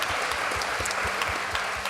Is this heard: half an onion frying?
no